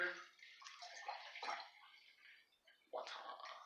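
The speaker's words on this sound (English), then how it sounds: "Let's pour some water in" Water is poured into a container, giving a soft splashing and gurgling stream that stops and then starts again with a fresh, slightly louder pour near the end, heard fairly close and quiet.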